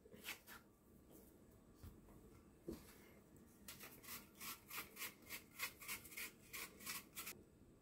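Apples are being peeled, first with a few scattered scrapes, then a quick run of rhythmic rasping strokes close up, all fairly quiet with no talking.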